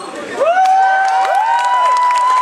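A studio audience on a Flemish television show responds with loud crowd cheering, whoops and rising shouts, building after a brief quieter start and holding steady near and full.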